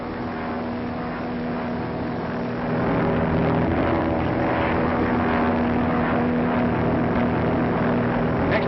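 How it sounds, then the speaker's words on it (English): A propeller patrol plane drones overhead in a 1935 film, a steady loud engine hum with a tonal whine that swells slightly partway through. "Patrol plane scouting."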